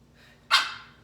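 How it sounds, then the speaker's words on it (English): A pet dog named Jojo lets out a single sharp, loud bark close by during an arms and abs workout, the burst trailing off quickly into quiet room tone. "Sorry for the dog today."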